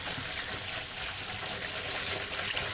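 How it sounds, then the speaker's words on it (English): Cold tap water gushes steadily into a container holding garlic cloves with a splash of white vinegar, a continuous broadband rush of close, even-volume pouring with no talking. "And fill it with cold water."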